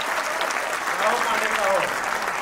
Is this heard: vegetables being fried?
no